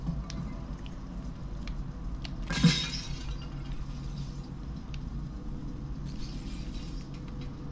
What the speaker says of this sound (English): Stepping on glass is a safety thing to do.